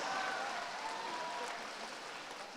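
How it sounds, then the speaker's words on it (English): Applause from an audience at a senior debate showcase, steady and fairly faint, sustained through the short moment without talk. "You guys give him a huge round of applause."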